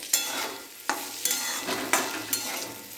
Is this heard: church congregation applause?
no